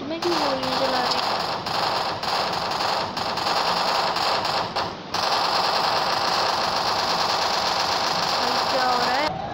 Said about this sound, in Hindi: फालतू में क्यों गोली चला रहे